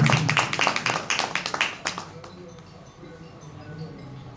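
Audience members at a bamboo conference in Lahore clap for an arriving guest, a brisk burst of many hands that lasts about two seconds before fading into quiet room tone.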